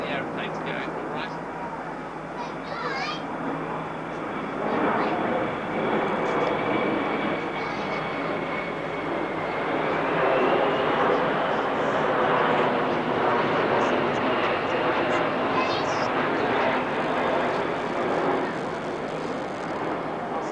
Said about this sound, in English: Just wait for the aeroplane to go, all right?